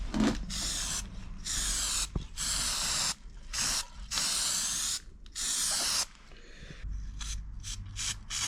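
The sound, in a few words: spraying weld-through primer from an aerosol can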